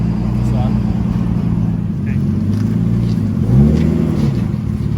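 Nissan Skyline R34 with a diesel-to-turbo conversion, driven along a road: a steady low engine drone with gear and rev changes, a brief rise in revs near the end, heard from inside the car.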